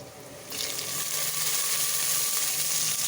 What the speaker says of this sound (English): now that the onions are nicely browned, I'll drop in these tomatoes